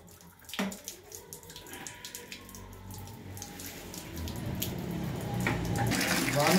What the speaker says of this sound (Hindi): टैंक से आरओ का पानी ही ले रहे हैं सर्विस करने के लिए।